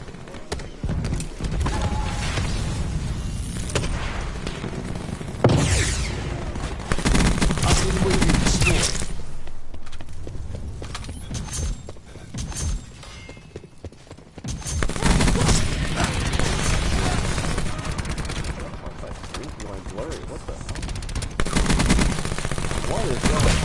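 Heavy gunfire in the video game Call of Duty Black Ops 4, with dense machine-gun bursts and repeated volleys over about twenty seconds, some brief quieter gaps between them, mixed with game sounds.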